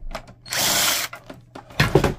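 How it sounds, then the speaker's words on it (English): A screw is backed out of an Epson XP-4100 printer during teardown, giving short mechanical whirring bursts and clicks from a small driver, separated by brief pauses, close and fairly loud. "So we're gonna remove that screw."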